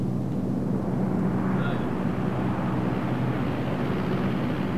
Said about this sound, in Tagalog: May helicopter, pwede ba sumakay sa helicopter?